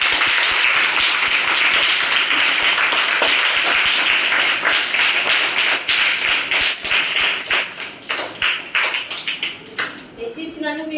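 Children at a village primary school clap together in thanks to a donor, a dense burst of applause that thins into scattered, uneven claps toward the end.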